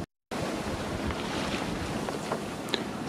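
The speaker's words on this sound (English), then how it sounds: "we've actually got quite a lot of wind there, between 16 and 21 knots" Wind in the 16 to 21 knot range buffets a sailing yacht off the Peloponnese coast, with a continuous rush of surf and wind roar against the microphone, broken only by a brief dropout at the start and no talking.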